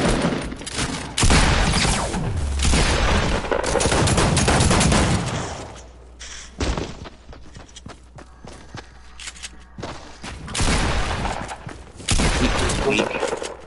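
Shotgun blasts and gunfire in a video game battle, loud repeated bursts of shots and rapid fusillades with footsteps between them, with some talking over the action.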